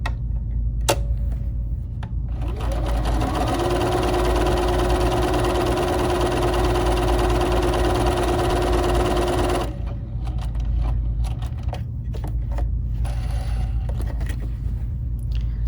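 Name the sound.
BERNINA 3 Series sewing machine stitching decorative stitch 78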